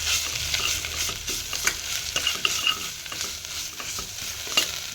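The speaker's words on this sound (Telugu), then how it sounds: "ఇది కూడా కొంచెం ఆయిల్లో ఫ్రై అవ్వాలి." Freshly grated coconut fries in hot oil in a pan, giving a continuous close sizzle with soft scraping and clinking as it is stirred, and no voices.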